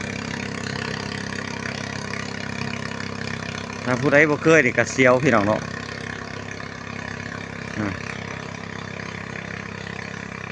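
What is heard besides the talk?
boat engine running on a river crossing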